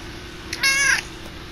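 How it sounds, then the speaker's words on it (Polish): Pet cat giving a single clear, close meow lasting under half a second, over a low steady background hum. "Jak coś to mogliście właśnie usłyszeć przywitanie mojego kota."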